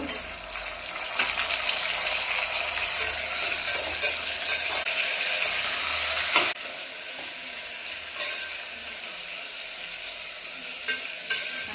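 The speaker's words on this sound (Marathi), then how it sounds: "टोमॅटो सुटेस्तवर आपण ते भाजून घेणार आहोत।" Chopped tomatoes sizzle with browned onion in a pan for Maharashtrian spiced rice with field beans, a steady loud frying hiss with stirring scrapes that drops slightly partway through, no voices.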